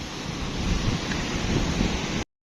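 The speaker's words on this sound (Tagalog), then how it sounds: "Hampas ng alon sa semento." Sea waves wash against a concrete seaside boulevard in a steady broad roar mixed with gusty wind rumble on the microphone, continuous and fairly loud until it cuts off abruptly near the end.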